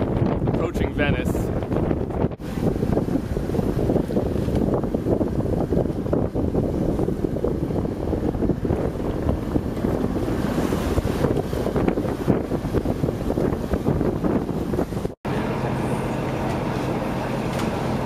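A Geja sailboat sails the Mediterranean while steady wind roars across the microphone and waves rush along the hull, a loud continuous wash with a couple of brief dropouts.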